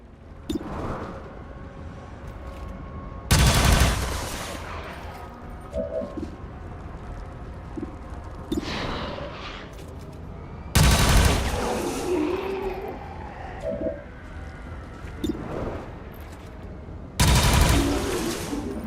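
Gunfire from the XCOM 2 video game comes in three loud, sharp bursts spread several seconds apart, with quieter battle noise and faint scattered sounds between them.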